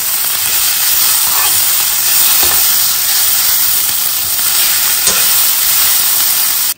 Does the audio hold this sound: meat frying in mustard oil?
yes